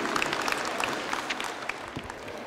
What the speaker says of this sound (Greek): Παρακαλώ ένα χειροκρότημα για τον κυβερνητικό εκπρόσωπο Νίκο